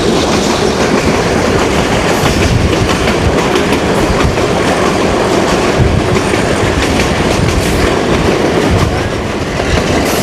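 Kohat Express train on a tree-lined branch line near Kahal railway station, with loud, continuous rumble and rhythmic clickety-clack of wheels over rail joints throughout, no voices.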